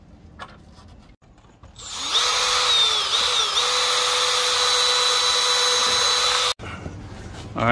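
A power drill drives screws to mount a solar street light, with a short tap or two first, then a loud, steady high whine that holds for several seconds, dips in pitch briefly, and stops abruptly.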